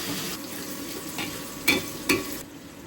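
Curry simmers and sizzles in oil left over from frying fish on an electric stove, a constant broadband fizz broken by two brief clinks of a utensil against the pan.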